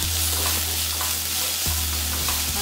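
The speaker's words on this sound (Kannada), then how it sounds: "ಟೊಮೆಟೊ ಆಗಿ ಚೆನ್ನಾಗಿ ಫ್ರೈ ಆಗಬೇಕು." Tomato frying with onions in a pan, a loud, close, continuous sizzle with stirring scrapes throughout and no talk.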